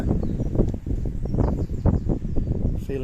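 Gusty wind buffeting outdoors around flowering cherry trees in an April forest garden, rough close rustling and microphone rumble in uneven surges, with a faint bird chirp near the end.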